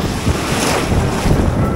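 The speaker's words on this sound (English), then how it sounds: "We've got a beach spot now, and the sea's there." Sea waves at a cold beach give a steady, broad rush of surf, mixed with heavy wind buffeting the microphone, close and loud throughout with no speech.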